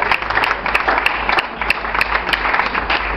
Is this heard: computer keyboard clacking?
no